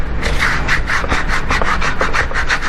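A squeegee is rubbed in quick, even back-and-forth strokes over a glass plate, a close, rhythmic scraping at roughly five strokes per second with no talking.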